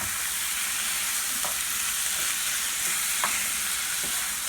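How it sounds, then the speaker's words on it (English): Shrimp sauté in a hot pan for a quinoa shrimp stuffed avocado dish, giving a steady, close, bright sizzle that holds evenly throughout, with a few soft clicks of stirring and no voices. "So you're sauteing this, and we're going to go ahead and saute our shrimp."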